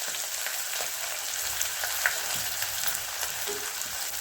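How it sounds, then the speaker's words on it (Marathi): Onion frying in rendered chicken fat for a homemade chicken curry, a steady close hiss and crackle of sizzling fat, continuous and even throughout with a few small pops. "आता ती चरबी पागळलेली तेल निघाले त्याचं,"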